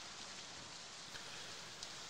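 Heavy pouring rain hisses steadily and evenly across the whole stretch, a dense wash of drops with a couple of slightly sharper spatters, no voices.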